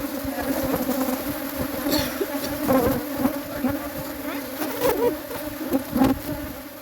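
Honey bees buzzing in an open hive during a strong bluegum flow, a dense steady drone close by, with individual bees flitting past and rising and falling in loudness.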